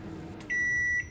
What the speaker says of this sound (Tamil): இந்த பீப் சவுண்ட் முடிஞ்சதும் அவன் டோரை ஓப்பன் பண்ணி பார்க்கலாம்.